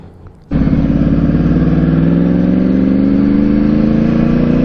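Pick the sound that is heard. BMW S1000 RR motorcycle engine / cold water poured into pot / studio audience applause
BMW S1000 RR motorcycle engine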